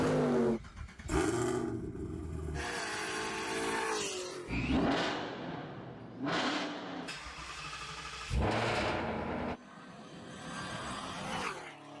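A Stage 2 tuned BMW M240i on 93 octane accelerates hard, its engine revving up through several rising pulls with brief pauses for gear changes, loud and close throughout.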